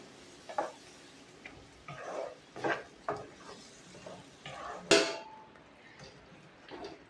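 Ground tomato paste sautés in a pan for an eggplant tamarind curry, a soft sizzle punctuated by repeated scraping strokes of a spoon and a sharp clatter midway.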